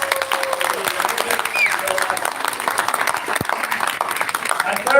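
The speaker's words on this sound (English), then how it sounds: "Give yourselves a huge round of applause for being here." An audience at a Validus training event in Sydney applauds with a dense, continuous patter of clapping, with voices mixed in.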